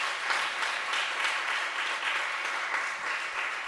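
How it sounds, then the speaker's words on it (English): A conference audience applauds its panelists with dense, steady clapping from a full room that holds at an even level throughout. "ask for your applause for our really good panelists"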